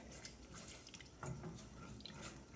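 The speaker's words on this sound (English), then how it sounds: "I'm just going to add some milk" Milk being poured into a roux for cream soup: a soft, steady liquid trickle with faint drips, close by and fairly quiet, with no talking.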